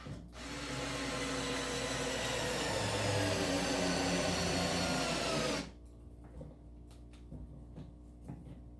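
A Ryobi 4V USB lithium cordless screwdriver runs loud and steady for about five seconds, driving a screw nearly fully home, then stops abruptly, leaving faint handling clicks and knocks.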